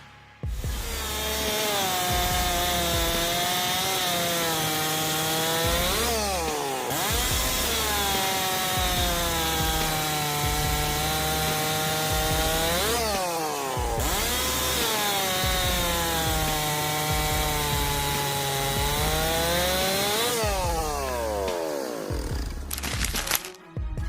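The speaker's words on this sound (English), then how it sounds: "We've got the STIHL MS661 CM Magnum. This beast packs some serious power for cutting wood." A Stihl MS661 CM Magnum chainsaw cuts wood with a loud, sustained engine whine that dips as the chain bites in, then revs back up between cuts, repeating several times.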